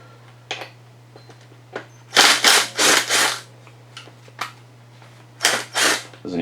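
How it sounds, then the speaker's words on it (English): A number 9 Allen socket on an impact tool loosens the front fork pinch bolt on a 2001 Yamaha R1, with several short loud bursts of whirring rattle separated by pauses, close up. "We're going to be removing the pinch bolt off of the front of this fork. For that, we'll be using a number 9 Allen socket."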